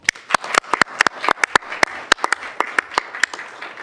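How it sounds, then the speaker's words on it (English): At a council meeting, a small audience applauds the planning team: sparse, distinct individual claps in an irregular patter, fairly close and light, with no speech over them. "I would now like to first give them a round of applause."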